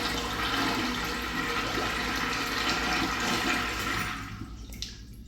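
A 1980s-1990s Kilgore/Mansfield Adam urinal flushes and refills through its many rim jets, a loud rushing wash of water that runs steadily for about four seconds, then tapers to a quieter trickle.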